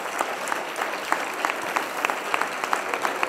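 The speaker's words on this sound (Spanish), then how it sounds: "Un fuerte aplauso para ellas." Steady clapping from a small audience at a social work awards ceremony, moderately loud and continuous throughout.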